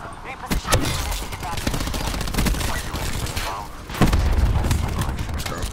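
Gunfire in the Black Ops 4 video game: dense, continuous bursts of shots with heavy booms, loud and close, with a voice calling out over the shooting.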